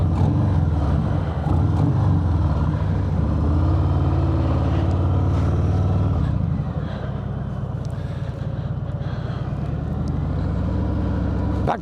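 Harley-Davidson Fat Bob 114 with a Milwaukee-Eight engine and Vance & Hines pipes, revving loud and close with a deep, steady throb that rises and falls, heard alone.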